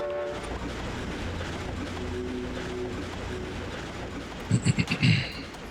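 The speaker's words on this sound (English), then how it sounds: "Train ride." A train riding on rails in the Ratchet & Clank video game rumbles and clatters steadily, with a short horn-like tone, then a burst of rhythmic clanking near the end.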